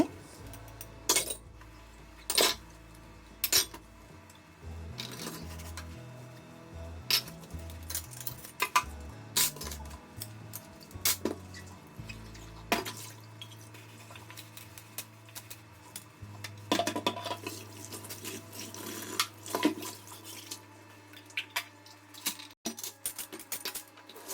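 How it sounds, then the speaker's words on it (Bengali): Plates and bowls being washed in a home kitchen sink, with scattered clinks and knocks of dishware over a low steady background hum, sounding close and moderately loud in irregular bursts. "এখন হচ্ছে সবগুলো প্লেট বাটি আমি ক্লিন করে নেব।"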